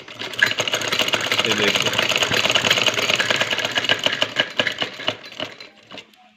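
A sewing machine stitches with a fast, continuous mechanical clatter after its tension and feed dogs are adjusted, then slows into separate ticks and stops, with a brief spoken remark over it.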